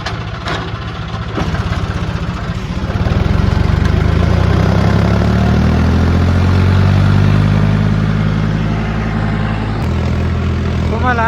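A tractor engine revs up and pulls away on a steep ghat road at night, a loud, steady low rumble that swells after a few seconds and holds, with faint talk early on.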